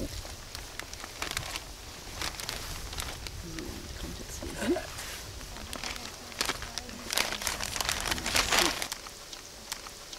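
A plastic bag crinkles and rustles as residue from a sieve is tipped in and knocked against a crate edge, a run of scattered crackles and taps that grows denser near the end, with faint speech in the background.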